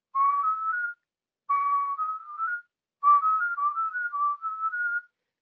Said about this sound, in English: And then finally, there's warbling.